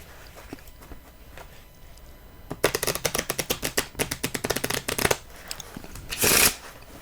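Playing cards are handled close up, with a few soft taps and slides, then a fast run of crisp riffle-shuffle flutters and a final brisk bridging swish.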